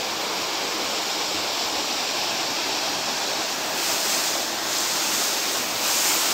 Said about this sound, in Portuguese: Aqui é a Cachoeira Gonzaga.